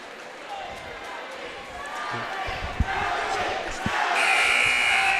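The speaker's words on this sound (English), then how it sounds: "And that buzzer sounds, which means that there's only a certain amount of time for timeouts." A scorer's bench buzzer at a boys basketball game sounds as a sustained electronic tone near the end, over a steady crowd murmur, scattered shoes and ball noises, and a commentator's voice.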